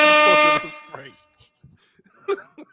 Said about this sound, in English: You can hit the air horns.